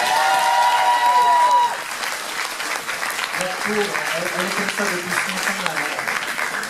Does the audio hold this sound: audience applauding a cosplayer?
yes